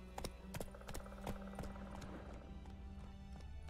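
The horse Roach gallops in The Witcher 3, a steady stream of quick clip-clop hoofbeats under a layer of game music and ambience, at moderate level with no talking.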